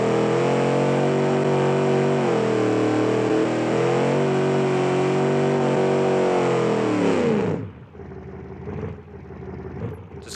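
A loud engine revving in the BeamNG driving game, a sustained high, buzzy roar with wavering pitch that holds for about seven seconds before cutting off abruptly, leaving faint low rumbles.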